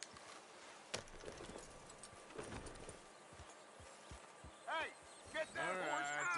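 Horse hooves clip-clopping in the video game Red Dead Redemption 2, a few scattered hoof knocks over a quiet ambient bed, followed by a voice calling out and other game sounds.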